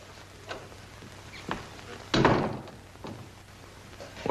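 An interior door is shut in a 1940s crime drama setting, a single loud thump landing mid-clip amid quieter room sounds and faint shuffling.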